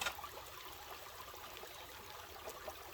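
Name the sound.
water flowing through a river sluice at a creek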